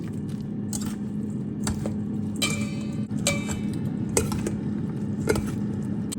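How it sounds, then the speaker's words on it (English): Salad tongs toss a crispy rice and chicken salad with dressing in a bowl, giving repeated light clicks and clinks at an irregular pace over a low steady hum, close and with no talk. "Now I'm going to take my salad tongs and mix this to see if I have enough dressing."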